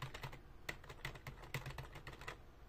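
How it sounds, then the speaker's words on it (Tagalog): Rapid, uneven clicking from a one-handed mechanical keyboard being typed on, with crisp individual keystrokes and a few sharper clacks, heard up close and alone. "So yung sound ng mechanical keyboard ko na one hand."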